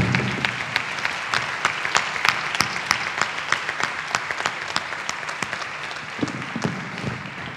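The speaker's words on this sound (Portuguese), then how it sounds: "Uma salva de palmas para eles." A small audience applauds the speakers at the closing session of an academic colloquium, with individual claps distinct and sharp, sparse but steady, and fading slightly toward the end.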